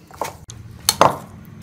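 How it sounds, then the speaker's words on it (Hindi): Utensil scraping and clinking against a bowl while mayonnaise is stirred into chopped fruit for a Russian fruit salad, a few close, irregular knocks and scrapes over a short stretch. "हम मायनीज को डाल के हम अच्छी तरह से मिक्स कर लेंगे सारे फ्रूट के अंदर"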